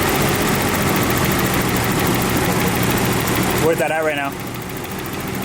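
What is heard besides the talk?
BMW E30 engine idling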